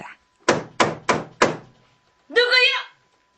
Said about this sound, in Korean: 그는 다시 문을 두드렸다.